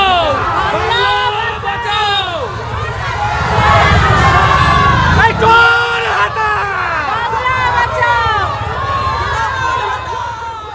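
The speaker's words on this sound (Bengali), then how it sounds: "নপাড়ায় ভোট প্রচারে তৃণমূল সিপিএম স্লোগান যুদ্ধ" Rival Trinamool and CPM supporters in Naopara trade loud chanted slogans during a West Bengal election campaign, a dense crowd of voices shouting in rhythmic bursts, close and continuous throughout.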